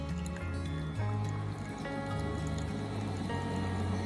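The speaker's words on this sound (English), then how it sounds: "this is taking the longest time ever to brew a cup of coffee" A broken Keurig coffee maker slowly brewing, giving steady gurgling, dripping and trickling liquid sounds with low pump rumble, continuous and close throughout.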